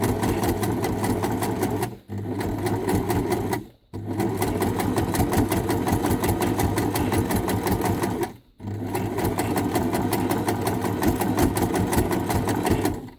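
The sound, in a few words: sewing machine sewing fabric rope flowers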